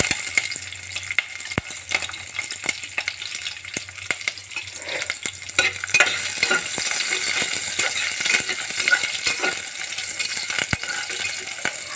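Curry leaves and chopped onion frying in a little oil inside a pressure cooker, a steady broad sizzle with scattered crackles and pops running throughout, close and continuous, with no talking.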